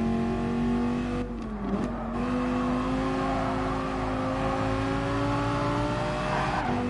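Race car engines during an overtake in Gran Turismo Sport on PS4, with a loud sustained engine whine whose pitch dips briefly and then climbs steadily as the cars accelerate, plus some tire noise.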